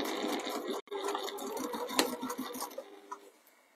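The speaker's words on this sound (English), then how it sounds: "So I'm only going to do a couple of inches sewing down here for now." A sewing machine runs a few inches of stitching on fabric for a pie crust cushion, a soft, even mechanical whirr with a brief pause partway through, close and moderately quiet.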